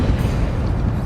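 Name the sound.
Confringo fire spell blast in video game Hogwarts Legacy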